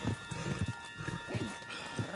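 Horse hooves clop in Red Dead Redemption 2 as John's horse carries a rider away, a steady run of soft, low, muffled beats that sit close in the mix over a busy game background.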